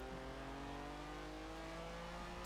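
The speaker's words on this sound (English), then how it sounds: "That 4 litre V12 singing gloriously." Lamborghini Miura SVJ with a 4-litre V12 making 450 horsepower, revving in Forza Horizon 4, a steady, quiet engine drone with layered harmonic tones that climb slowly without a break.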